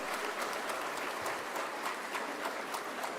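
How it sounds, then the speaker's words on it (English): An audience at a National Pharmacy Week celebration applauds together, a dense and steady roar of clapping that holds at an even level throughout. "please, gentlemen, please let us give us a great round of applause"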